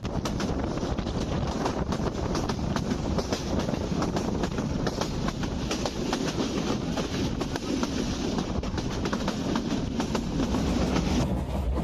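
Kalni Express passenger train on the Dhaka–Sylhet route, a continuous loud rumbling roar of wheels on rails with rattling carriages and wind buffeting, heard from on board or close by without voices.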